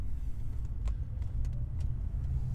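A Lincoln Town Car luxury sedan on the move, its engine and road rumble a steady low drone with faint ticks and rattles, no talking.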